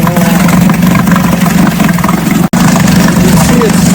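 An Aiqidi 3.5 outboard motor runs steadily out of gear with a constant mid-pitched hum and no clear rev changes, loud and near, with one instant dropout partway through.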